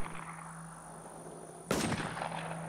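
A sudden loud burst of gunfire in the video game The WarZ erupts after a steady background hum, with rapid shots continuing briefly and trailing into a noisy wash.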